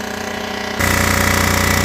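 A VW cylinder head being decked on a machine makes a loud, harsh grinding roar that starts abruptly partway through after a quieter mechanical hum, close and continuous with no talk.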